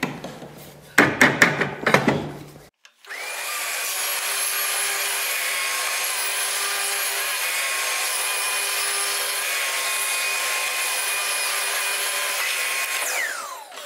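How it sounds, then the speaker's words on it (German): A few short rasping strokes, a brief pause, then a Bosch GTS 10 XC table saw whines steadily through a long continuous cut in wood before winding down. "aber wir sägen jetzt mal eine Runde."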